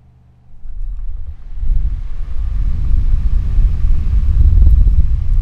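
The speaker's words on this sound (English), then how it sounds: "I'm pretty sure you can hear the noise of the fan in the background," A steady low whooshing drone of an electric fan starts up after a quiet moment and keeps running, broad and constant, with no talking.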